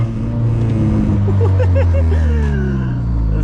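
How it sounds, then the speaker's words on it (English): A turbocharged 1.8T engine swapped into a VW Golf 3 rises in a loud rumbling rev, with a whistling turbo spool climbing over the engine drone close by. "listen to that turbo spool"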